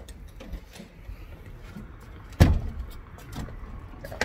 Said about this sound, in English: Yeah, a lot of these doors are sticking.